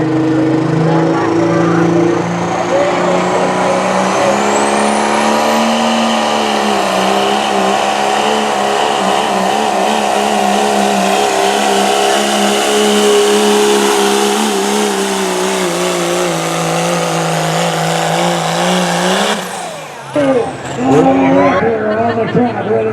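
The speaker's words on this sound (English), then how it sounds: "On the track, full diesel performance, Eric Woodbridge." A diesel pickup revs hard at a truck pull in the 2.6 class, a loud roaring engine that climbs and holds for nearly twenty seconds, then cuts off abruptly before some rumbling and crowd noise.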